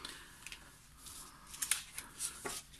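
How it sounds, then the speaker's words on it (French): Scissors trim around a laminated rhodoid sheet in a quiet, close sequence of small snips and crisp plastic crackles, a few sharper cuts standing out near the end. "j'ai plus qu'à découper autour"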